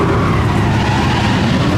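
An E30 drifting at an open drift event, its tires skidding in a loud, steady screech over a constant engine roar that stays close throughout.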